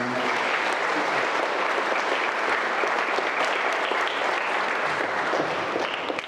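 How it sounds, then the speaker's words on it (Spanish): Sustained audience applause at a church blessing ceremony for a college, dense and steady throughout, loud and even without pause. "Un aplauso para los hermanos."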